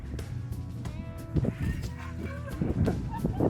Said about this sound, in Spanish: Pues sí tenía hambre la gaviota mexicana.